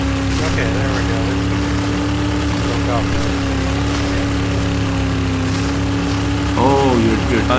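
A motorboat engine in the video game Battlefield 4 drones steadily with a low rumbling hum while people talk over it throughout.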